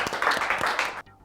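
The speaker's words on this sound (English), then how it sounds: "Let's give him a round of applause." Round of applause from a small group, a brief burst of dense clapping lasting about a second before cutting off, close and fairly loud.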